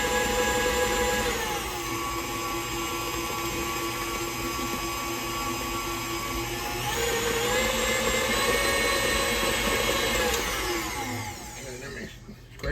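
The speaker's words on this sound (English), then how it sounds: "You can do it with a hand mixer" An electric hand mixer whirs loudly and continuously as it beats cake batter for a double-layered coconut cake. Its pitch shifts a few times with speed and load, then it winds down near the end.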